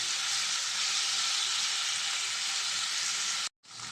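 Chicken sizzles and fries in a hot pan until golden, a loud, steady hissing crackle that runs unbroken before cutting off abruptly near the end.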